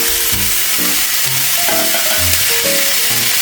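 Thin stir-fry beef sizzles with onions in a hot pan, a loud, continuous crackle heard under background music.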